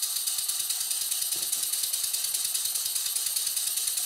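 A small model steam engine runs on compressed air from a compressor line at about 20 psi, giving a steady fast mechanical chuffing and ticking under a loud continuous hiss of escaping air.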